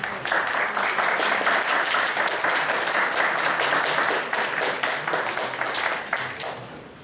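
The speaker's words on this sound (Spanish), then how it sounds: "Le damos un fuerte aplauso." An audience at a lecture on energy reform, NAFTA and the European Union gives a speaker sustained applause, a thick, even roar of many hands that eases slightly near the end.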